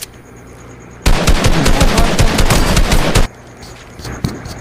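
Automatic gunfire in the video game Fortnite bursts out loud and close as a rapid, sustained stream of shots lasting about two seconds, with a few quieter shots after it.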